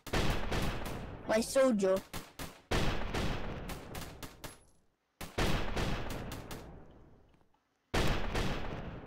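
Rapid bursts of machine gun tower fire in the Roblox game Tower Battles, loud, close and dense, broken by short gaps, with a voice speaking briefly over the shooting.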